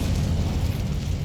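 Confringo fire spell blast in the video game Hogwarts Legacy, a dense rumbling explosion that fills about a second with heavy low boom and crackling noise, loud and steady with no talk over it.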